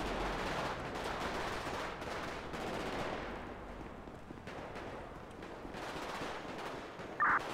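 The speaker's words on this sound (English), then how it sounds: "I'm gonna run to the shots fired" Rapid, dense gunfire crackles steadily from a GTA FiveM roleplay game scene, a sustained barrage of shots at mid distance with a brief sharper burst near the end and no talking.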